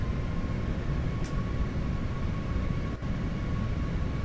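Jet engines of an airliner in Microsoft Flight Simulator spool up on a very short runway with the parking brake set, a steady loud drone with a high tonal whine holding evenly throughout, no talk over it.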